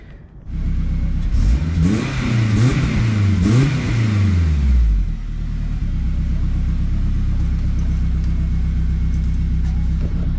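A budget all-wheel-drive car with a sleeper exhaust setup is revved several times nearby, its loud rumbling engine rising and falling in pitch, then dropping back to a low, steady idle.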